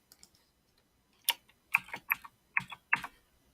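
Keys clack on a computer keyboard in a few short bursts of quick, close taps separated by brief pauses, with faint isolated clicks early on and no talk.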